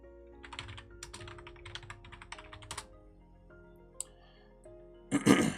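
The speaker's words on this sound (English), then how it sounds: "And so you guys can see what I'm typing." Keys clatter on a computer keyboard in irregular bursts of typing with short pauses, fairly close and moderately loud, ending in a louder cluster of clicks.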